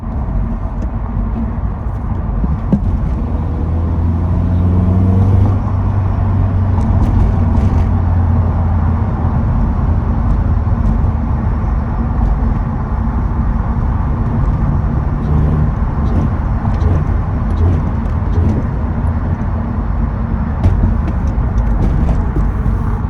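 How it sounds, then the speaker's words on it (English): Acura RSX Type R with a swapped K24 engine revving through a quick downshift, steady loud engine drone with brief rev blips, heard from inside the car. "Quick downshift for y'all."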